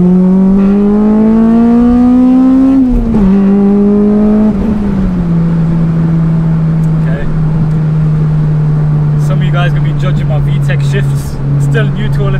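Honda Civic Type R EP3 with a VTEC engine, heard from inside the cabin while driving: a loud droning engine note rising through revs, dropping at gear changes and then holding steady on a cruise, with some crackles late on.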